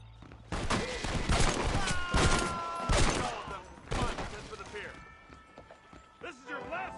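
Semi-auto pistol gunfire in Red Dead Redemption sounds as a string of sharp, punchy shots in quick bursts, mixed with hoofbeats and other game noise, while voices speak over the fighting.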